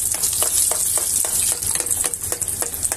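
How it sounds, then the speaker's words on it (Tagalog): A breaded chicken pocket sandwich frying in oil, giving a loud, bright, continuous sizzle with regular scraping pulses about twice a second as it is stirred and oil is spooned over, close to the pan, with no talk. "Ngayon, i-fry na natin."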